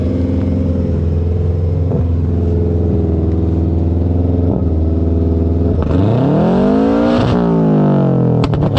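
Gravel race cars pass by at a gravel cup rally event, loud engine drone building, then a sweeping pitch drop as one roars past close, followed by clattering and sharp snaps.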